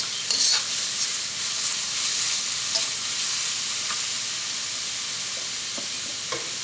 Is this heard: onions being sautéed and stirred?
yes